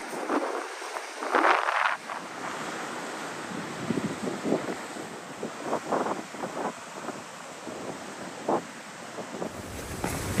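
Strong Atlantic wind buffets the microphone while heavy waves crash against a rocky southern Portugal coast, a loud, continuous roar with repeated surging pulses of surf.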